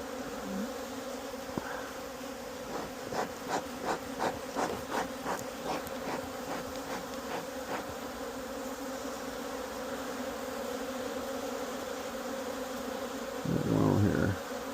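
Honey bees buzz steadily around hives in a savanna apiary, a constant close drone with brief louder passes as individual bees fly near, continuing alone without talk.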